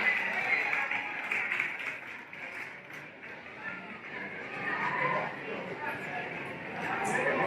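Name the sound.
audience applause for a pinup pageant contestant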